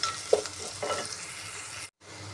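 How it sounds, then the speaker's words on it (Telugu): Ginger garlic paste frying in a pan for a Telangana-style chicken curry, with a steady near sizzle, a few stirring scrapes and one brief clatter, then a short pause before the frying resumes; no one talks. "అల్లం వెల్లిగడ్డ పేస్ట్ కూడా ఇగో మంచిగా వేగింది"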